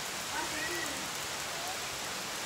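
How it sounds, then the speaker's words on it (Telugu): Steady rain falls outdoors on a vegetable farm, a dense, even hiss of drops on surfaces that runs the whole time without a break. "చూసారు కానీ వర్షం ఎలా పడుతుందో"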